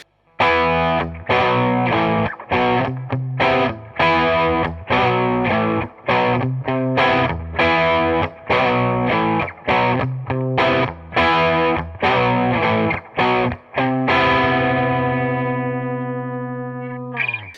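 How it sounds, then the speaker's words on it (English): An electric guitar with humbucker pickups plays through a crunchy Klon-style overdrive pedal, strumming loud rhythmic chords with short gaps before a final chord rings out and slowly fades. "So it's a very responsive, very crunchy overdrive."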